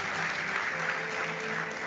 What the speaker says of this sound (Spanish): ¿Cuánto le aplaude fuerte a los que agradecen que no hemos muerto en la pandemia?